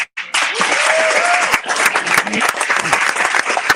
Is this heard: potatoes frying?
no